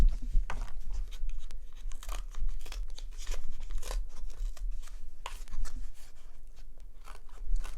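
Scissors snip steadily through paper while a bunny puppet is cut out, a close, continuous series of crisp cuts and crinkling paper over a low background hum.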